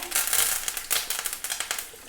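Dense, loud crackling and sizzling of curry leaves spitting in hot oil, with sharp pops scattered throughout.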